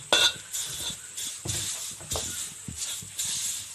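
Crushed ginger pulp dry-fried in a pan without oil, with intermittent scraping and clinking of a utensil against the pan in short irregular strokes at close range, no voices.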